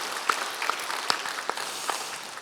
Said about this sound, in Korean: 이 일을 행하신 주님께 영광의 박수 다시 한번 올리겠습니다